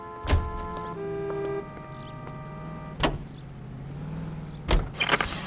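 A car starting and driving in the video game L.A. Noire: a steady low engine hum under a sustained in-game musical tone, punctuated by three sharp thunks like doors shutting, with no speech.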